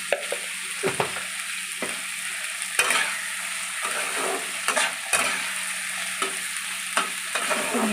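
Tomatoes and onions fry with salt in a pan, a steady close sizzle broken by repeated scraping stir strokes, with no talking.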